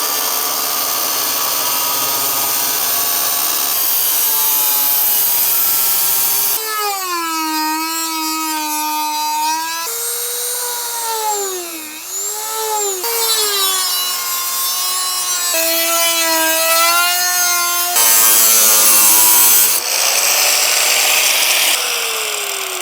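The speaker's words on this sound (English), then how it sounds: "actually start drilling our hole into our truck." A drill bores a hole into the body of a 4th-gen Toyota 4Runner during a Dobinson snorkel install, producing a loud, continuous whine that shifts pitch in stages over more than twenty seconds, with no talking.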